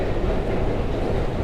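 Train rumbling through a deep New York subway station, a dense, steady, loud roar with no breaks.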